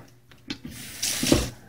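A kitchen tap runs cold water into a sink while an ingredient for Lao padek sauce is rinsed, a few short knocks first, then a steady rush of water rising near the end.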